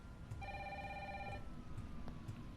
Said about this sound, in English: I'm pretty sure the phone's gonna keep ringing no matter what I do